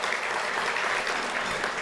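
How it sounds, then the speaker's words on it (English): A crowd at an anniversary celebration gives sustained applause, an even wash of many hands clapping at once, fairly loud and without a break. "A big round of applause for our gold sponsors"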